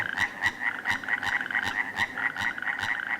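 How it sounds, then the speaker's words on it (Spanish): A chorus of many frogs croaking in a fast, regular pulse, loud and close, each beat a sharp click over a continuous ringing trill, with no voices. "Y todas las ranas del mundo."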